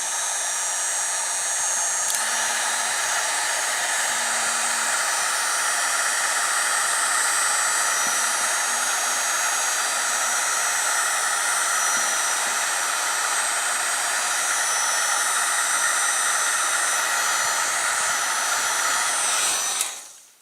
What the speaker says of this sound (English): again a little bit of heat from the heat gun